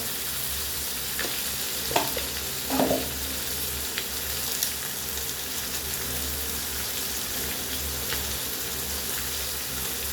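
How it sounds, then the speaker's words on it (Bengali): Ginger and tomato stir-frying in a pan, a steady hissing sizzle running throughout at close range with a few soft clicks of a stirring spoon, no talking. "আদা টমেটো দিয়ে তিন চার মিনিট নেড়ে চেড়ে এরপরে দিতে হবে একটু হলুদ গুঁড়ো"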